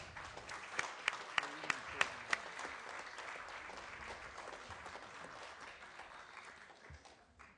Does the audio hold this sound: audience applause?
yes